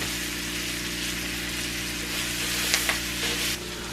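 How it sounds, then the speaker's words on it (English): Onions and peppers sautéing in a pan give a steady, fairly quiet sizzle over a constant low hum, with a couple of faint clicks near the end and no talking. "I'm going to saute the onions and peppers"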